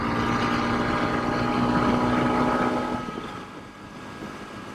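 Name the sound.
Honda CRF300 Rally motorcycle accelerating in 5th gear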